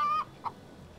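A chicken on the farm in the video game My Time at Portia gives two short clucks: a brief tonal call, then a quick soft cluck over quiet ambience.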